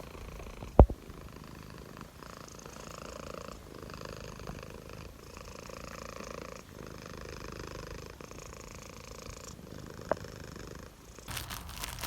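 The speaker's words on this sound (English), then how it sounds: "Listen to her purring." Fudge the cat purrs in a soft, steady rumble with slow pulsing breaths, close and quiet, with a couple of faint clicks and no talk.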